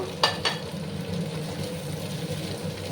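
Cauliflower stalks being stir-fried and mixed in a pan for a vegetarian chorchori, giving a steady sizzle with two sharp scrapes of the spatula near the start, then continuous frying noise.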